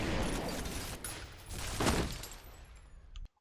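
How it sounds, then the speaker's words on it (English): Rapid turret gunfire in the shooter FEAR, a dense continuous fusillade of loud shots that swells midway and cuts off sharply; a voice speaks briefly. "there's a turret behind me that I knew about earlier and I've simply forgotten about"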